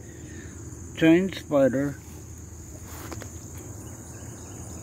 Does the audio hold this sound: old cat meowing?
no